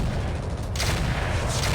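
A loud, continuous roar of tandem rockets fires from a launcher in a video game, a dense barrage of blasts that swells sharply partway through.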